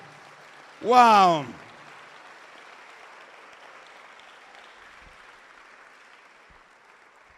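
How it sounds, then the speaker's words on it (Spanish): A church congregation applauds at low level through a Spanish-language sermon, a steady soft wash of clapping that follows a single loud voice exclaiming near the start. "Dale un aplauso al Señor."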